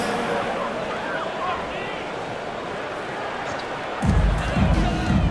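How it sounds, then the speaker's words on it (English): Crowd at an NBA basketball game in an arena, a broad, steady roar of cheering and applause from the stands, swelling louder in the final second. "One more big round of applause"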